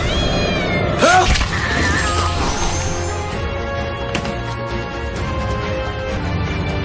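A cat lets out a loud, drawn-out meow near the start, rising and then falling, over a busy, rumbling background that carries on after it.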